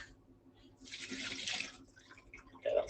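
Tap water runs into a kitchen pan being half filled for cooking chicken, a soft hissing stream that swells after a quiet start, then settles, with a brief clink or splash near the end.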